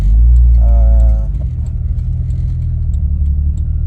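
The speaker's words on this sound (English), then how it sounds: "I'm in my Jeep now. I done drove around the corner" Low engine rumble of a Jeep heard from inside the cabin, loud and steady at first, then settling into a quieter continuous drone with faint ticking; a brief tonal chime sounds early on, and no one speaks.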